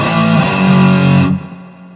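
Distorted electric guitar in drop D tuning playing a chorus riff from a song, with loud chugging chords and a slide, then ringing out and decaying near the end.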